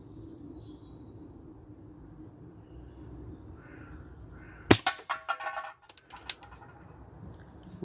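An air rifle fires RWS Super H Point .177 hollow-point pellets, one sharp close crack followed by brief clattering echoes against a quiet outdoor background with faint birds.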